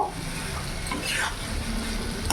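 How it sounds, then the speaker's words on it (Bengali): Fried potatoes and pointed gourd stirred into an oily spice paste for an egg and pointed gourd curry, giving a close, steady sizzle with scraping spatula strokes and no talking. "এবার ভেজে রাখা আলু আর পটলগুলো আমি দিয়ে দেবো। মশলার সাথে ভালো করে মিশিয়ে নেব।"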